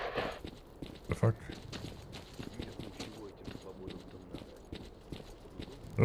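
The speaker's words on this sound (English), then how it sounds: "Those footsteps were so loud." Loud footsteps in the video game STALKER: Clear Sky: a steady series of heavy, clopping steps runs through the scene, with sharper thuds standing out, over a busy game background.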